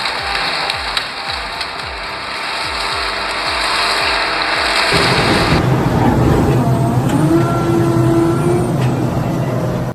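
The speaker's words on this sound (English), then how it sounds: "The belt-driven flywheel spins with serious force" A homemade belt-driven flywheel firewood splitter running, first with a rapid mechanical ratcheting clatter, then a loud steady roar of the spinning machinery, close and continuous.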